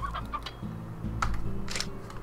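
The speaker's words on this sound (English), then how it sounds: "With convenient chickens for me to take back to our bird." Chickens clucking in the video game Slime Rancher, several short close clucks and squawks in a quick irregular string over a low steady game background hum.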